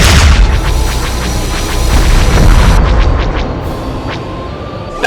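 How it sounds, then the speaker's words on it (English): Explosion effect in a Doctor Who audio drama as the Battle TARDIS fires time torpedoes: a loud, sustained booming roar with rumbling low end and scattered crackling bursts throughout. "Battle TARDIS is ready to engage. Weapons primed. Time torpedoes armed."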